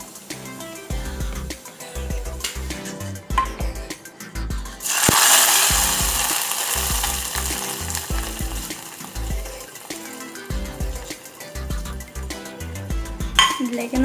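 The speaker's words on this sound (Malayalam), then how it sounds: "ഇനി നമുക്കിത് നമ്മുടെ ചിക്കൻ കറിയിലേക്ക് ഒഴിച്ചു കൊടുക്കാം." Hot coconut oil tempering with curry leaves poured into a Malabar-style chicken curry, a loud burst of sizzling and frying hiss that rises suddenly and then settles, with stirring and clinks of pots and utensils around it.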